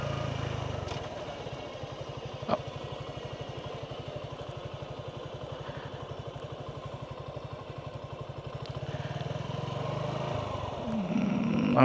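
A Suzuki Gixxer SF 150 motorcycle rides along a road in Bangladesh, its engine putting out an even, rapid low pulsing hum over wind rush, with a couple of brief clicks and a rising rev near the end.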